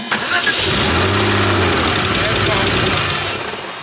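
A built RWB Porsche 964 Turbo engine running unevenly with one cylinder down, a close rough idle with a low uneven throb, while a person talks nearby.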